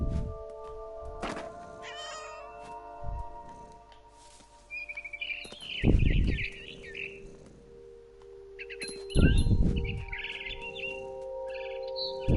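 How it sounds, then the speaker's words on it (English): In the video game What Remains of Edith Finch, a barn swallow chirps in short high twittering bursts, and a cat meows in between. Low thumps and a steady tonal game hum run underneath. "I heard chirping outside my window. It was a barn swallow going back to her nest."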